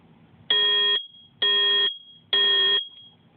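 A Universal SS770 smoke detector alarm gives three loud, piercing electronic beeps of about half a second each, evenly spaced with short silent gaps, close to the microphone.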